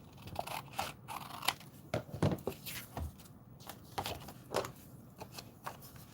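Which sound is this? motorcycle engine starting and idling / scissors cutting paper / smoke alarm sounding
scissors cutting paper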